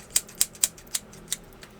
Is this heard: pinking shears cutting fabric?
yes